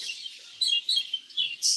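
A parrot hen, a young bird about five to six months old, gives a run of faint, high chirps and tweets in short bursts with quiet gaps between them, heard close with no talking.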